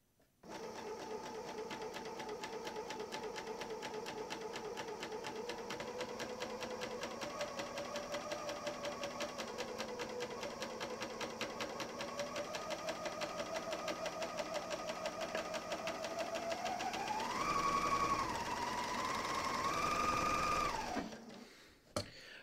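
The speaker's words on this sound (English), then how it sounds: "I have my serger set up for a 4 thread, and my cutting width is at 5" A Bernina L 460 serger runs a 4-thread seam in one long, close, steady burst of rapid mechanical stitching that rises in pitch near the end before stopping.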